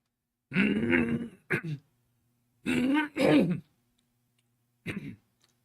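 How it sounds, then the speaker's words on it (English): Two or three rough throat clearings in a row, close and fairly loud, separated by brief pauses, followed by a shorter final one. "I had to clear my throat"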